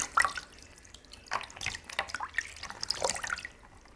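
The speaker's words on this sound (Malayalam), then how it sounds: "തണുത്ത വെള്ളത്തിൽ നമുക്ക് ഫേസ് ഒന്ന് വാഷ് ചെയ്തെടുക്കാം" Cold water splashes and drips as a face is washed, soft, near, intermittent trickles and splashes in short bursts.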